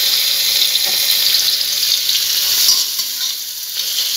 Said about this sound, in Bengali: চিংড়ি মাছটা লাল লাল করে ভেজে তুলে নিয়ে দেখাচ্ছি